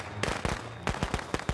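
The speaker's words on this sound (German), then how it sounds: "Irmi hat auf jeden Fall ein paar Böller hingelegt" Rapid firecrackers burst in the Friday the 13th video game, a string of sharp, loud cracks at irregular intervals, about eight pops clustered in quick pairs and triplets with no talking over them.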